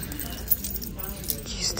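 Metal coins jingle on a vintage coin necklace from a second-hand shop, a light chinking clatter under soft nearby speech.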